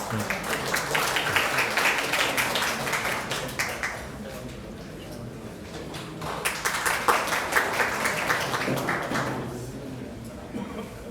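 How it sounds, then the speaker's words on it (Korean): Audience applause in a Korean nuclear safety regulation workshop hall welcomes a speaker, steady dense clapping rolling on for about eleven seconds with a brief dip midway before swelling again. "큰 박수로 모시겠습니다"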